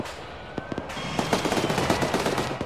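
Rapid machine gun fire in an Iranian-front military air assault video game, a dense run of sharp bursts rising in the second half with a faint steady tone under it.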